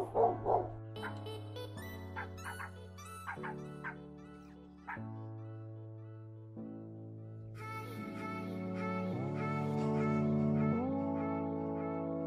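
A dog on a property where a pergola and fence gate are being spray-stained barks in a few sharp yelps near the start, then gives way to sustained tonal sound that steadily builds louder over the rest.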